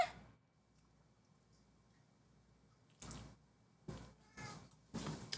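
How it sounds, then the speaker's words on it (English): A cat meows several times in short bursts in a quiet indoor room, faint at first and then a little louder, with no talking. "that's my cat."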